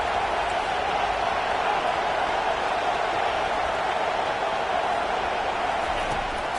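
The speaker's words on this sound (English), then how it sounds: "It's early, but this crowd is fired up. Listen to this noise here." A fired-up crowd at a college football game between South Florida and Penn State keeps up a loud, steady roar with no breaks, heard from within the stadium.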